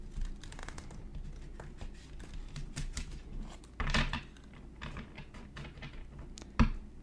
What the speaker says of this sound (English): So now I'm going to shuffle the cards